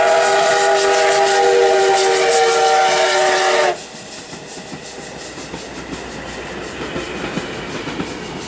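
A steam locomotive pulling a tourist train out of Asahikawa in Hokkaido gives a loud, sustained whistle that stops abruptly, followed by the rolling rumble and clatter of the cars.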